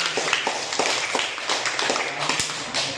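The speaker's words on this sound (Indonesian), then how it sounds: "tepuk tangan dulu Kak" Classroom audience clapping, a brief patter of scattered hand claps from a small group, fairly close and irregular.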